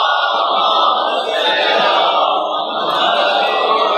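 A large crowd at a majlis shouts a religious slogan in unison, a loud sustained roar of many voices that swells and holds without pause.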